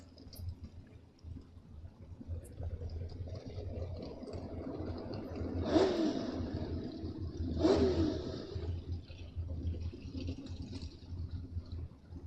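A 67 Camaro and a 71 Duster drag racing at a bracket event, engines rumbling at a distance with two brief louder bursts of acceleration, over steady crowd and track ambience.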